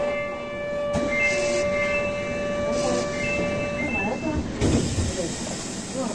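A Kintetsu 20 series express train with a Mitsubishi hybrid SiC VVVF drive runs through the Kyoto subway, its inverter whine holding steady pitches under a rolling cabin rumble, with a brief hiss and a rise in noise toward the end.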